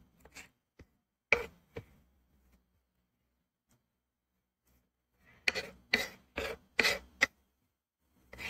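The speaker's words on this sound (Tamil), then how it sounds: "ஸ்ட்ராபெரி நல்லா கழுவி எடுத்துட்டு நம்ம கட் பண்ணி எடுத்து வச்சுக்கலாம்" Knife chopping fresh washed strawberries on a board for a chocolate pot cake, a few sharp isolated cuts early, then a quick run of five or six close, distinct chops.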